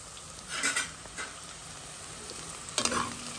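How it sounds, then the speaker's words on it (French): Onions frying in a pan for a bichique curry, stirred with a utensil: steady sizzle throughout with a few short scraping strokes near the start and a sharper clatter toward the end. "Je mélange bien les oignons là."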